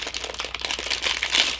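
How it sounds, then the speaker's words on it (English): Plastic packaging around a set of stitch markers crinkles and crackles steadily as it is unwrapped up close, a continuous dry rustle with small bursts and no talk. "Let me get the stitch markers out. Apologize for the crinkling."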